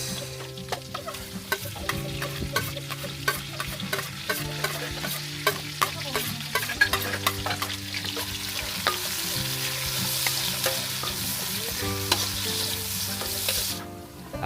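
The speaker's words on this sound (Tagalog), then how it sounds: "Pag mabango ng bawang, sibuyas." Garlic and onion sautéing in a pan, a loud continuous sizzle with repeated scraping and clanking stirs of a metal utensil up close, while chickens cluck in the background.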